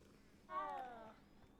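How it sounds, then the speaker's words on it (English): A cat in Hogwarts Legacy gives a single drawn-out, wavering vocal cry lasting about half a second, clear and fairly close over a faint background hum. "Gotta pet the cat."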